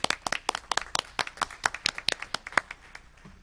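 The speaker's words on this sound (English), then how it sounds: "I think a round of applause is in order." A small group at a city council meeting claps for a few seconds, quick irregular hand claps close by that thin out and fade toward the end.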